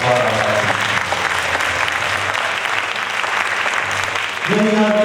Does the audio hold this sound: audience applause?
yes